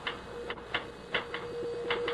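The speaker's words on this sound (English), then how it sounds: "Stop that typing." Sparse, light mechanical clicks of a typewriter tap out at irregular intervals, slow keystrokes, quiet over a faint steady hum, in a 1975 radio drama.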